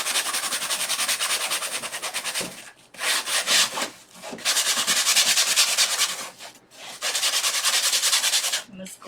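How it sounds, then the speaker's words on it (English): Rough, rhythmic rubbing of a sanding block on wood, in several long bursts separated by short pauses, close and loud. "use my sanding block"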